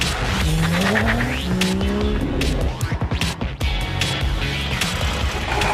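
A car accelerates hard with its engine revving upward in pitch and tires squealing loudly and continuously, close by, with no talking.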